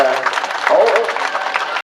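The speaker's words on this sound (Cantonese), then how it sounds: "多謝熱烈掌聲嚇" Audience applause at a Wing Chun kung fu event, a steady dense wash of clapping lasting under two seconds and cutting off abruptly, with some voice mixed in.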